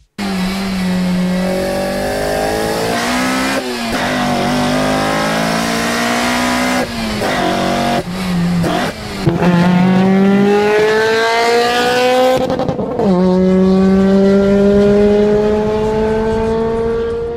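A Toyota Corolla AE86 engine revving hard through several gears, pitch climbing and dropping with each shift, loud and close like on a track.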